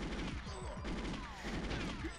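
Gunfire from the GoldenEye 007 shooter game fills the whole span: dense, loud, rapid-fire shots with crashing impacts, continuous and close, with no talk over it.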